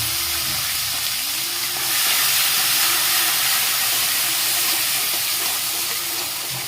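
Potatoes, green chillies and tomatoes sautéing in a pan for a farali sukhi bhaji, giving a steady, dense sizzle and hiss that holds unbroken throughout with no talking.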